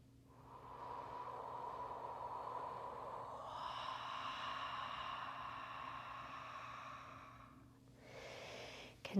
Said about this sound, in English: So nice, slow, deep inhales. And on your exhales,